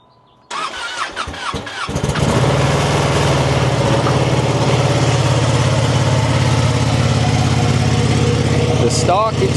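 A Ducati Panigale V2 motorcycle with its stock exhaust cranks briefly, then fires up loudly nearby and settles into a steady, throbbing idle that holds for the rest of the time.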